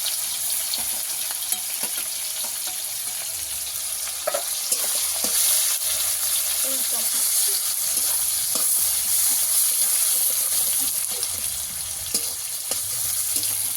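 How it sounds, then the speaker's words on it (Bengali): Chopped onion frying in oil with cinnamon sticks and two bay leaves gives a steady, bright sizzle close by. Occasional soft scrapes and clicks from stirring run through it, and there is no talk. "পেঁয়াজটাকে আমি লাল লাল করে ভেজে নেব।"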